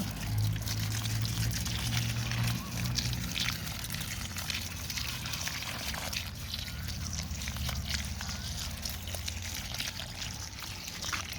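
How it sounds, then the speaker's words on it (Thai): Rice-water fertilizer solution is poured onto chili plants in a steady, continuous splashing and trickling stream, close and fairly loud throughout with a low background hum. "นี่ค่ะทุกคนเราก็รดไปเลย รดให้โดนใบโดน ลำต้นโดนดินเขาเลยค่ะ ให้ทั่วๆเลย"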